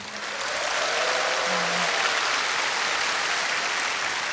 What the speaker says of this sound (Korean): 제가 생각했던 것보다 훨씬 더 큰 박수와 함성과 반김 해주시는 것 같습니다